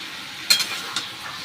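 Pumpkin fries in a pan with a soft, close sizzle, broken by a sharp utensil clink and a couple of quieter stirring scrapes.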